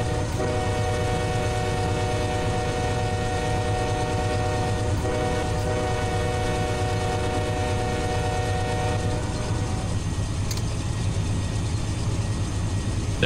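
A locomotive air horn in a train video game blares in a long sustained chord over the rumble of a moving 9,000-foot intermodal train, sounding steady and loud throughout.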